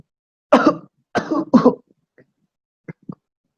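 A child coughs three times in quick succession, loud and close, followed by a couple of faint smaller coughs, with silence between bursts.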